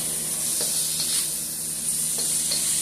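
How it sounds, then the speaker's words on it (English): Beef cubes sizzle steadily in a pan over medium-high heat with green peppers and onions, a constant close frying hiss broken by a few soft stirring scrapes. "So now I'll go ahead and add my beef cubes. Just add my beef cubes to the pan there."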